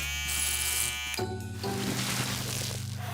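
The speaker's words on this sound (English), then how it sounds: "Let me try this laser shaver, Mark." Cartoon laser shaver buzzing: a high electric whine and hum that cuts abruptly into a lower droning buzz with a crackling hiss, loud and continuous with no speech.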